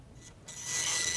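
Computer printer at work: a short raspy mechanical rubbing that pauses briefly, then swells into a steadier, louder scraping whir, near and alone with no talk.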